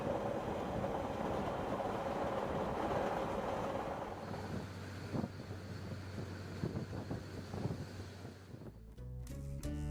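An old train rolls through the Sicilian countryside, a steady rumble with wind noise at first, then rhythmic wheel clatter and a low hum, ending in a brief mechanical clunk.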